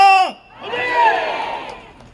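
Crowd at Cheongga traditional market in Daegu shouting a cheer together, a brief harmonic voice at the start giving way to a swelling mass of mixed voices that holds and slowly fades.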